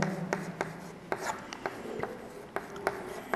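Chalk or marker strokes on a board during a Class 12 physics lesson on capacitance, a series of short sharp taps and scrapes at irregular intervals, close and fairly faint, with no talk.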